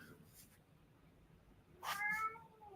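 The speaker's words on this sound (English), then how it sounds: "And I got a whining cat." A cat whines and meows indoors, one drawn-out complaining cry near the end after quiet, fairly close but soft, with brief faint noises earlier.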